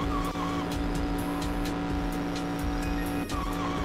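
Car engine roaring with tire skids and squeals during a driving stage in Sonic Adventure 2 Battle, loud and steady with game music underneath, no voices.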